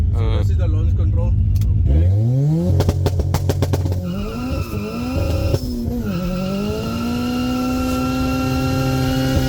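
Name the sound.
VR6-swapped car accelerating hard with launch control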